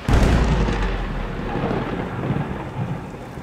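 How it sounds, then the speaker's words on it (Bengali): Thunder rumbles loudly in a rainy night scene from a rural Bengali ghost story, a deep rolling boom that starts strong and fades over a few seconds above steady rainfall. "বেশ জোরে বিদ্যুৎ চমকালো।"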